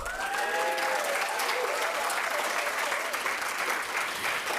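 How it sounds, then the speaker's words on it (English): Audience applauding finalists of the Africa Prize for Engineering Innovation, a sustained wash of many hands clapping evenly throughout, with a brief voice or tone at the start. "I want please a round of applause for our finalists."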